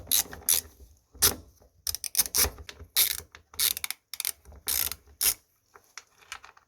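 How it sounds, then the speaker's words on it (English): A ratchet undoes a screw on a Hoover washing machine during a door-lock repair, giving close, crisp clicking bursts in irregular spurts with short pauses between turns. "use the ratchet"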